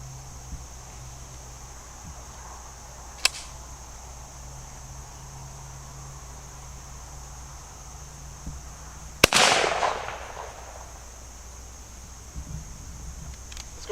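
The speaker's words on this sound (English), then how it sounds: "we're going to try the 410 Boss number 7 shot. We're going to shoot this out of a Carlson's TSS turkey choke" A single loud .410 shotgun blast fires Boss number 7 shot through a Carlson's TSS turkey choke. The sharp crack is followed by a brief decaying echo over steady outdoor insect hum, with a faint click a few seconds earlier.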